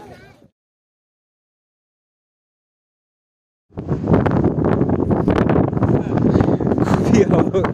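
Strong cold wind blows on a hilltop and buffets the microphone in loud, gusty roars after a long silence, with a brief voice at the very start.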